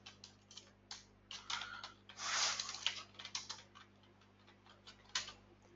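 A computer keyboard is typed on in quick, irregular bursts of close, crisp clicks as a Hive query is entered, with a brief flurry of rapid keystrokes midway and no speech.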